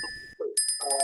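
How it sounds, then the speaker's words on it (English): Bells ring out in a short clear burst, a pause, then a brighter rapid ringing of repeated strikes, loud and close with no talk over them. "Wait a minute, got some bells ringing."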